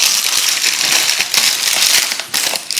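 A lining sheet for a cheesecake dish gets crumpled and flattened out again, a loud, close, continuous crinkling and crackling with brief dips in intensity.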